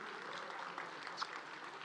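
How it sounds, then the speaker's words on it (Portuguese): Audience applause at a talk, a steady wash of clapping that fills the short moment at moderate level, with no voices on top. "Então uma salva de palmas para você que ficou até agora."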